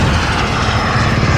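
A loud, continuous roar of airplane engines passes overhead in a Call of Duty match, dense and steady throughout the short stretch, with no talk over it.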